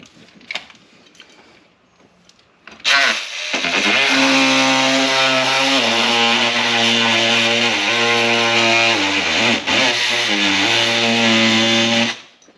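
A loud, steady power tool whines as it cuts through a plastic door panel on a Ram Promaster City, running continuously for several seconds after a few faint clicks and handling noises.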